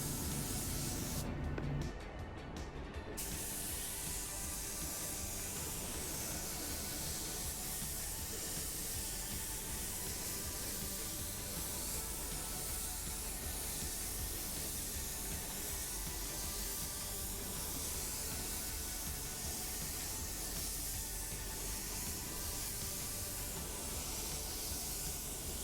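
Spray gun applying a second coat of clear coat over a gray metallic car panel, a loud continuous close hiss of atomized spray that holds steady for the whole stretch with no talk.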